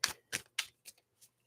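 A deck of tarot cards being shuffled in close, crisp riffling bursts, three strong ones followed by two softer ones, in a quiet room.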